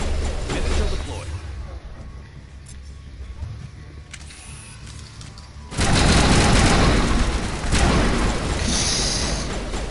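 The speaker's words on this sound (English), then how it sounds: "Missile deployed." A missile launches in the Mass Effect game: a loud, sustained roaring blast surges in halfway through and holds over a softer rumbling battle bed, with voices heard in the background.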